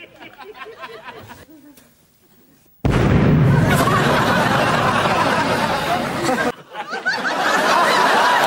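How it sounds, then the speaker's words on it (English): A firework goes off after being lit, a sudden loud burst followed by sustained crackling and hissing that drops out briefly and resumes; quieter ambient sounds precede it. "Mr. Bean lights the firework on fire."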